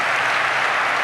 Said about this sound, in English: applaud if you've ever had that moment.